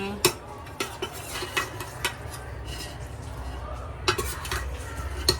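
Meat and potatoes tumble into a cooking pot, giving soft thuds and repeated clinks of a spoon against the pot's metal rim, with scraping and stirring between the close, moderately loud knocks.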